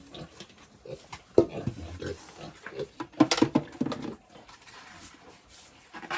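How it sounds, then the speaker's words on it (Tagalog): Pig grunts and snorts come in irregular bursts at close range in a backyard pigpen, with some louder squeals in the middle and quieter rustling noise between them. "Nalibang pa din yung baboy oh."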